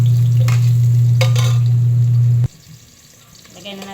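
Ginger fries in a hot pan with a steady loud sizzle and scraping stirs, then the frying cuts off abruptly halfway, leaving quieter background sounds.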